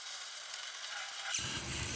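Sliced onions hit hot cooking oil in a pan at about the midpoint, bursting into a steady, close crackling sizzle that continues to the end over a faint background hiss.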